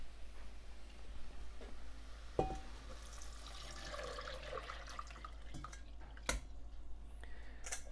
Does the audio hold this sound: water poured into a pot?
yes